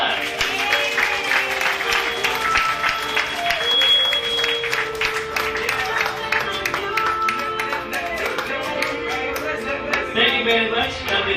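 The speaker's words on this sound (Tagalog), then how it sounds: "ng malakas na palakpak" Loud applause from a crowd at a staff gathering in Marikina, dense clapping that carries on for over ten seconds, mixed with voices and shouts throughout.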